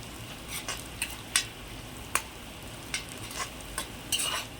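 Onions sautéing in an iron kadai, with a continuous frying sizzle and occasional sharp scrapes and taps of a spatula stirring them, close and steady.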